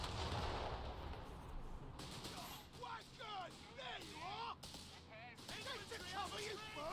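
Machine gun fire rattles through a Company of Heroes 3 battle, a steady wash of distant gunfire and artillery under continuous talking.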